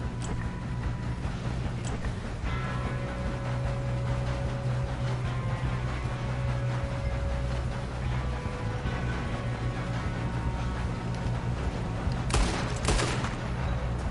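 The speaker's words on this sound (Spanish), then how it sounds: "Dos tiros en toda la cabeza, tío." Gunfire in the video game Red Dead Redemption 2, dense rapid shots packed over a constant noisy game soundscape, with a sharper burst near the end.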